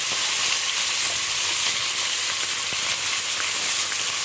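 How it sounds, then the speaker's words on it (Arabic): Shrimp fries in a pan with a steady, loud sizzling hiss that holds throughout, with faint stirring scrapes underneath and no talking. "وندي الجمبري تقليبه كده"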